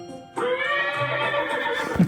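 A horse whinny from the Sega ePICO animal learning game, a single clear electronic neigh with a rising then trailing tremolo, played loud and alone for about two seconds.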